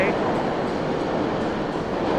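Subway trains rumble through the 42nd Street Grand Central station in Manhattan, New York, a steady loud rushing and rolling noise filling the whole clip with faint clatter over it.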